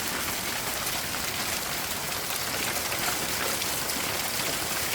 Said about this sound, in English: And they are a nice sized piece of hail